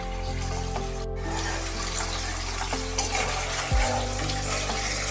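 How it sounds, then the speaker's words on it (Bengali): Paneer cubes fry lightly in oil in a pan on a gas stove, a continuous even sizzle filling the background with a faint steady hum underneath and no talking. "একেবারে হালকা করে এপিট ওপিট একটু ভেজে নিতে হবে"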